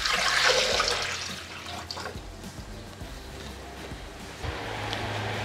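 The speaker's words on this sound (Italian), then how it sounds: "Iniziamo la ricetta mettendo all'interno del boccale l'acqua calda" Hot water poured into a Thermomix bowl while preparing farro with pesto, a loud splashing pour at the start that fades into quieter trickling and dripping.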